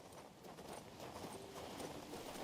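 Horse hooves clip-clop in the video game King's Bounty 2, a quiet, rapid, steady run of hoofbeats against a faint background.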